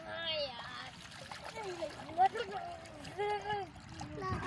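Children splash while bathing in a flowing canal, water sloshing and spattering close by under lively chatter and kids' voices throughout.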